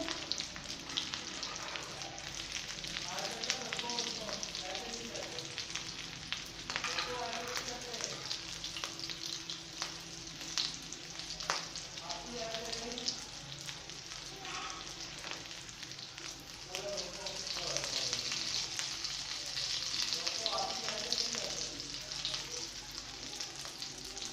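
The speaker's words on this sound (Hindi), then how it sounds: "इस तरह हम सारी टिक्कियाँ फ्राई कर लेंगे।" Potato tikkis fry steadily in hot oil with a continuous close sizzle and crackle, occasional stirring or turning noises rising briefly above the bubbling.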